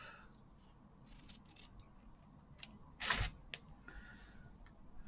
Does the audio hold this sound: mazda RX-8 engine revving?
no